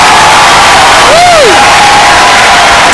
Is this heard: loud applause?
yes